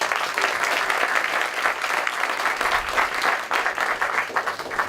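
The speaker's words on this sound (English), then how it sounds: "So I think you should give them a round of applause" An audience at a golf course ribbon-cutting ceremony applauds the organizers, giving a lively round of clapping that rises and falls a little in strength across the whole stretch, with no talk over it.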